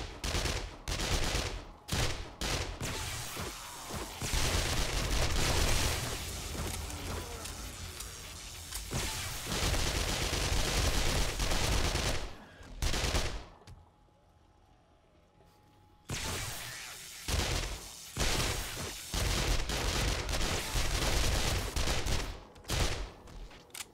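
Gunfire rattles out at a horde base in the survival game 7 Days to Die, with loud bursts of rapid shots that run almost without a break and stop for a short silent gap partway through.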